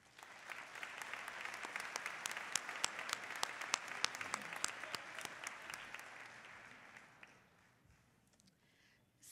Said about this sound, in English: Please join me now in acknowledging them with your applause.